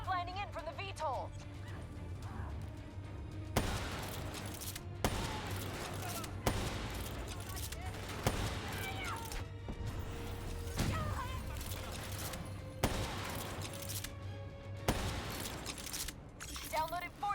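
Bursts of gunfire in Call of Duty: Black Ops III come in a series of sharp, loud volleys, with shattering impacts as a window is blown out, mixed with shouted voices and radio chatter between shots.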